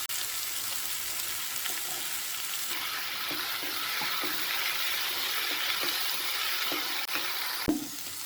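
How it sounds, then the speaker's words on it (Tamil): Beans, potatoes and other vegetables with ginger-garlic paste sautéing in a hot pan, giving a steady close sizzle with occasional soft scrapes and knocks of a stirring spoon. "பீன்ஸையும் போட்டு நல்லா வதக்கி விடுங்க"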